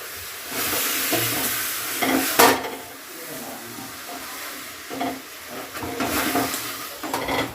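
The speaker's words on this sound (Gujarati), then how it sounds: "ઊનું કરવાના હોય ઘરને પછી એમાં ભેળવવાના હોય મુરમુરા એટલે કે મમરા જાય" Puffed rice is stirred into heated jaggery in a pan for homemade laddoos: close, loud scraping and rustling stir strokes in uneven bursts over a faint sizzling hiss, with no talking.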